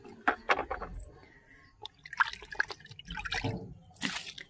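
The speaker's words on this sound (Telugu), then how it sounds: "ఇలాగా మొక్కలకి పోసేసుకోవడమే" Liquid fertilizer poured onto tomato and bean plants in a garden, heard as irregular splashes, drips and trickles, close and fairly quiet, with short pauses between pours.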